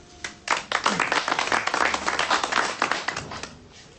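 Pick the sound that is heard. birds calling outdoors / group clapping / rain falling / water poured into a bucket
group clapping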